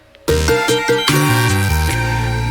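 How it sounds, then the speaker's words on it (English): Keyboard chords played by Ben enter after a short quiet lead-in, a loud run of stepped chord changes over sustained bass, ending in one held chord; no speech. "finally, we just have some nice chords that Ben played"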